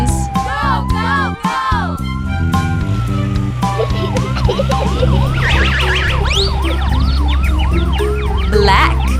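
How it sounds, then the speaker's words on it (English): Cartoon-style ambulance siren wailing in repeated up-and-down sweeps over a bouncy nursery-rhyme backing track with a steady bass pattern, loud and upfront for several seconds. "White ambulance."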